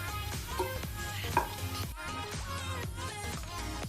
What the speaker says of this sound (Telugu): ఆనియన్స్ తీసినాక కూడా వేగుతాయి